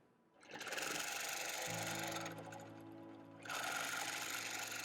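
Sewing machine stitching straight quilting lines in the ditch of drum-print fabric: a loud, steady mechanical whirring run that dips briefly and then resumes at full speed, close up, with no talking.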